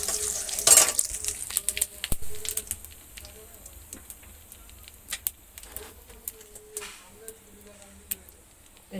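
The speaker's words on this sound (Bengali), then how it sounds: "তেলটা গরম হয়ে গেছে, এখন জিরে দিয়ে দিলাম।" Cumin seeds dropped into hot oil in a village kitchen crackle in a brief loud burst, then settle into faint scattered pops and ticks with light clinks of a utensil.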